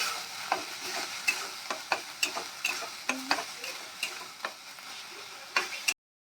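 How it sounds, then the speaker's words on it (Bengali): Cumin, garlic and dried chilli paste frying in a pan for a katla fish dish, with a steady close sizzle and repeated sharp scrapes and taps of a spoon stirring, then a brief silence at the end. "জিরে, রসুন আর শুকনো লঙ্কার যে পেস্টটা বানিয়ে রেখেছি সেটা দিয়ে দেব পরিমাণ মতো। এটাকে দিয়ে আমরা ভালো করে কষিয়ে নেব।"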